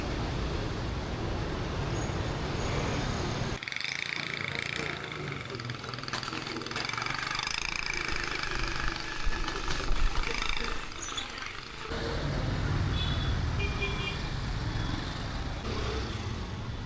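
A rumbling motorbike engine idles and revs amid street traffic in Saigon, a steady low drone with busier mechanical noise through the middle section.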